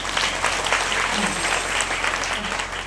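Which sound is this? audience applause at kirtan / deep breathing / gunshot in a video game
audience applause at kirtan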